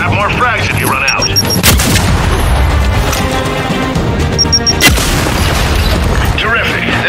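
Frag grenade explosions sound during Gears 5 training gameplay: loud booming blasts and crashing debris, with game voices talking over the action.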